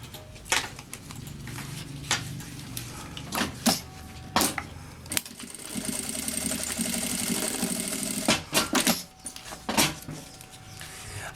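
A sewing machine runs a seam along a child's backpack strap in a short stitching burst, set among scattered clicks and handling knocks of fabric and tools, with no talking.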